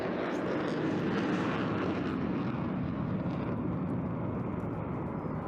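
A jet fighter powered by two EJ200 turbofans roars past at an air show, a loud, broad, sustained engine rumble that fades gradually toward the end.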